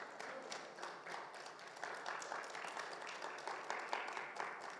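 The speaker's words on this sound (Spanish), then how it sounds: "Pueden darle un aplauso al Señor" A church congregation applauds during a Spanish-language service, steady dense clapping from many hands filling the room, moderately loud and continuous throughout.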